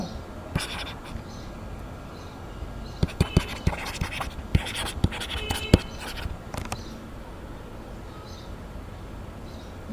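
A pen scratches on paper as someone writes out given data, with a flurry of sharp scribbling strokes and taps in the middle, close and fairly quiet against a faint background hiss.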